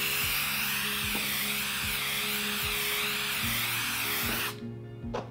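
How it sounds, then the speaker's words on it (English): A steady, wavering spray hiss from an aerosol can of spray adhesive sprayed onto cardstock runs for several seconds, with faint mechanical tapping underneath, then cuts off abruptly. "I'm gonna spray it on the back of the picture."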